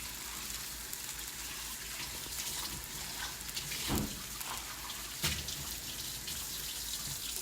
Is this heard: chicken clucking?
no